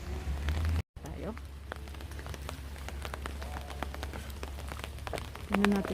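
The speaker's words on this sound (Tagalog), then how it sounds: "Na ulan, inabutan na tayo ng ulan." Steady rain falls outdoors at an Asian bazaar in Tochigi, Japan, a continuous wash of drops with scattered sharper patters, while people talk nearby over it.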